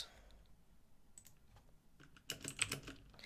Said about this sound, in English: I'm not used to the keyboard shortcuts on this external keyboard that I'm using.